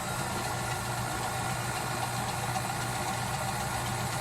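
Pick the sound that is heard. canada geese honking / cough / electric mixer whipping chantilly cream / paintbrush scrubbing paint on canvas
electric mixer whipping chantilly cream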